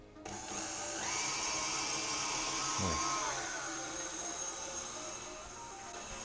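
Electric kitchen mixer whirs steadily while blending flour and baking powder into chocolate chip muffin batter, a close, loud motor whine with a brief pitch shift midway, no voices.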